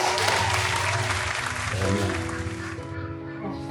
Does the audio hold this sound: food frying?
no